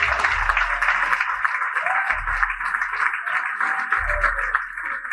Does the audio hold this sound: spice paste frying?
no